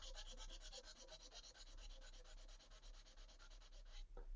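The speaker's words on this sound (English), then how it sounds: "So the next job is to give these a quick sand" Wooden offcut blocks are sanded by hand in fast, rhythmic back-and-forth rubs, a steady close rasp that stops near the end with a short knock.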